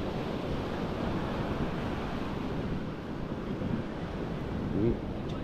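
Steady ocean surf washes in continuously, a broad, loud rushing roar with some wind buffeting the microphone and no pause between waves.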